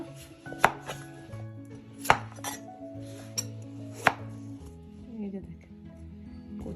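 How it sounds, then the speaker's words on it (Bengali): Knife strikes through a bottle gourd on a board, a few sharp chopping knocks spaced a second or so apart, close by, over steady low background hum. "এখন আমি কেটে নিব"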